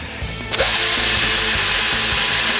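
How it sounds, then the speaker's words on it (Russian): Power drill boring into a cheap PVC window profile, a steady loud whine with a low rhythmic rumble beneath after a brief start-up burst, close by. "Приступаем к сверлению дешевого профиля от ВХС."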